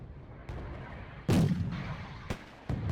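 Tank cannon fire in Wargame: Red Dragon, with Italian C1 and B1 vehicles engaging tanks: a sharp, heavy boom followed by two more distant cracks over a low battlefield rumble.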